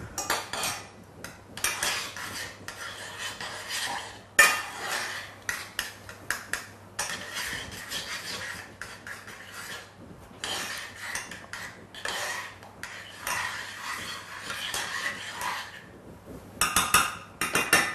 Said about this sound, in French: je vais le mélanger un petit peu parce qu'il y a des morceaux qui fondent